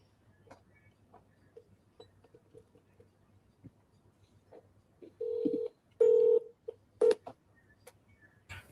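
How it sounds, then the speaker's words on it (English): Three short bursts of telephone keypad dialing tones ring out in a quiet office setting, following faint background clicks and low hum, with no talk over them. "I just tried dialing her too"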